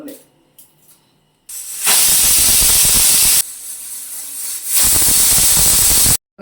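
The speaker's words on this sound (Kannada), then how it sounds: "ಕುಕ್ಕರ್ ವಿಶಲ್ ಕೂಡ ಆಗಿದೆ" Loud bursts of hissing steam blast out of a pressure cooker whistle in two long spurts, separated by a brief lull with quieter sounds.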